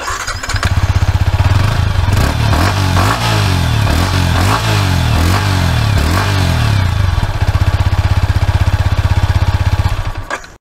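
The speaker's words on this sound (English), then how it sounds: "now you want to listen to the exhaust note" A Yamaha YZF R15 v3 2021 BS6 150cc sporty motorcycle runs close by, its exhaust note loud and steady, with a series of quick revs rising and falling in the middle before settling back to idle.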